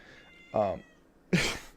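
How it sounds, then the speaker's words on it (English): An indoor cat meows angrily twice, a drawn-out yowl followed after a pause by a sharper, harsher cry, both close and loud against a quiet background. "Can you hear him screaming in the background?"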